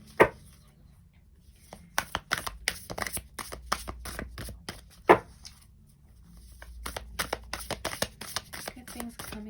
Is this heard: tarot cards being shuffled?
yes